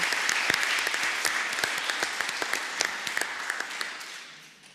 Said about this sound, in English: A big, big applause for all those people that contributed to this to happen.